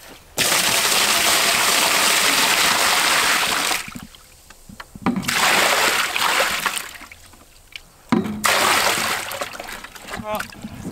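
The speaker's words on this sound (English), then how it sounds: "time to fill up the water bucket." Water gushing and splashing into a bucket on a bison ranch, loud and close in long bursts with pauses between fills, and a voice speaking in the quieter gaps.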